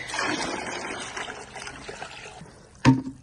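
Water pours and trickles into a kitchen-waste compost container filled with vegetable peels, starting as a soft steady flow that fades, then ends in a brief louder splash or knock.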